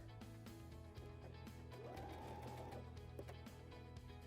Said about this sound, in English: And then we're just going to sew across the top of that.